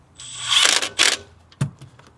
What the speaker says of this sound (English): this Milwaukee thing is on low set, so don't be moaning in the comments that I'm tightening stuff down with a gun